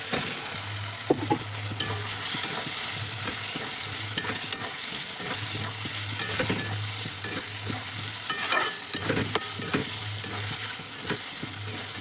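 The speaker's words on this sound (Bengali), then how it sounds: "মশলাটা এই যে ভাজা হচ্ছে" Spice paste frying in a pan with eggplant and potato pieces, a steady close sizzle broken by repeated scraping stirs and occasional clinks of the spatula.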